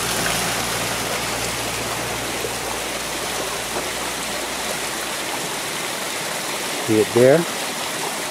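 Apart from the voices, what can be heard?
water pouring straight out and down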